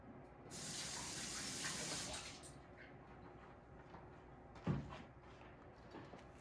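Kitchen tap water runs over scallions being rinsed, a steady soft splashing rush for about two seconds, then a quiet pause with a single small knock, all fairly faint.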